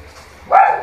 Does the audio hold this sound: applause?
no